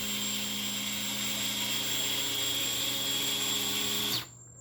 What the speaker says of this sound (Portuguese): Eu vou descer o drone para não ficar com esse barulho.